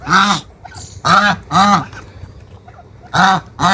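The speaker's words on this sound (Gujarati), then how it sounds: "આપણે બતકને પૂરવાના છે." Ducks honk loudly and close by as they are herded in, giving four or five harsh nasal calls in short bursts separated by brief pauses.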